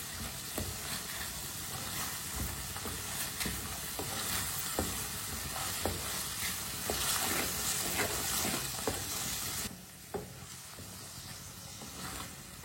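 Fresh peas fry in a pan while a spoon stirs them, giving a continuous sizzle broken by frequent clicks and scrapes of the spoon; the sizzle drops quieter near the end.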